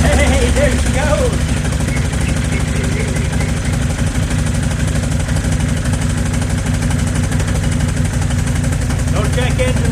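An ATV engine with a hard-starting problem catches and runs, settling into a steady, fairly loud idle with a rough mechanical drone close by.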